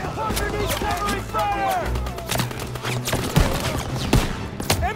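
Rapid machine gun fire with scattered gunshots in a Call of Duty: WWII battle, dense bursts crackling steadily throughout while voices shout orders over the combat.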